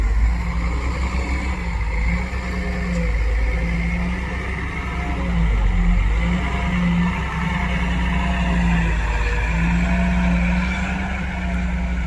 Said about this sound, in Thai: ต้องเร่งเครื่องแรงเลย